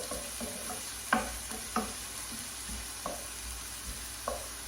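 Red onions fry in a pan for butter chicken, giving a steady low sizzle broken by occasional stirring scrapes and clicks, with no talking.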